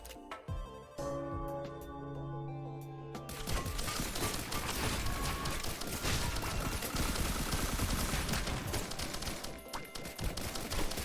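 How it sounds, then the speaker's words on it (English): Rockets firing in the Risk of Rain Returns video game, a dense barrage of rapid explosive bursts and gunfire-like crackle that kicks in after a quieter musical opening and keeps going loud and steady to the end. "Rockets? Because rockets always work."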